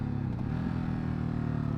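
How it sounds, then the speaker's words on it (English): A 2019 Ducati Hypermotard engine braking while riding, a brief steady low engine drone with faint mechanical clatter, close and moderately loud with no talking. "Pretty smooth engine braking"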